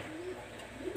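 Pakistani high flyer teddy pigeons coo softly in a low, steady murmur, with a brief brighter rustle near the end; no talking.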